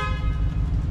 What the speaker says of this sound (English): Stick a honk in this shit.